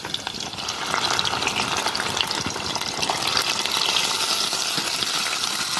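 Onion frying in a pan for a Mexican pemuches stew, a loud, steady sizzle with crackling and faint stirring scrapes, starting softly and then holding strong for several seconds.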